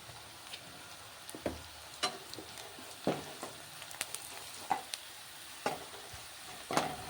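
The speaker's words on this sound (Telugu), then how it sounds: "ఫ్రై అయిపోయిందండి, చూసారా ఎర్రగా వచ్చింది." Onions with tempering spices frying in a pan for an Andhra-style ivy gourd and sesame fry, a steady soft sizzle broken by repeated scraping stirs and clicks, close by with no voices.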